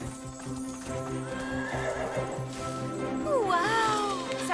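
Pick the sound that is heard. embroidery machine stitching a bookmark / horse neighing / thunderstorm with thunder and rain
horse neighing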